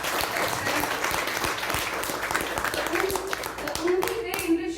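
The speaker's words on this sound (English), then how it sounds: "A huge round of applause, please, for the teachers." A large audience claps in sustained applause for teachers at a youth leadership program event, dense and steady throughout with faint voices and a few tonal sounds near the end.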